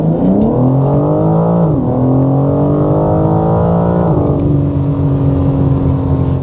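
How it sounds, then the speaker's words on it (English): A 2026 BMW M4 Competition accelerates, its exhaust rising in pitch through a steady, loud, close roar with two brief dips as it shifts, no voices heard. "I'm going to leave you with one more little exhaust note here as we hit the pedal."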